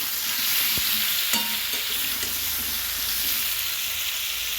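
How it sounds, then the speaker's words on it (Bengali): Pumpkin pieces sizzle steadily as they are stirred and fried in a pan for a curry, with a continuous hiss and a few sharp scrapes of the spoon near the start. "টিভিটা কুমড়োটা নাড়িয়ে নিই, কুমড়োটা ভালো করে ভেজে নিলে ভালো হয়"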